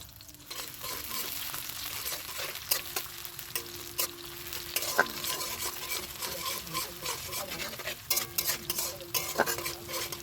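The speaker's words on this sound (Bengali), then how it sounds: "ভালোভাবে বেরেস্তাটা ভেজে নেব" Sliced onions fry in oil in a kadai for birista for chicken biryani, a steady close sizzle broken by repeated scraping stir strokes and light utensil clinks, with no talking.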